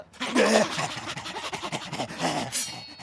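Dogs panting and whimpering up close, with rapid breathy pants and a brief high whine near the start, while a voice murmurs over parts of it.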